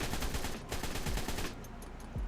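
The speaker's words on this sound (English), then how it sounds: "You just shoot all day with this." Rapid automatic weapon fire from a modded gun in ARK: Survival Evolved, a sustained loud burst of shots that cuts off briefly and resumes near the end.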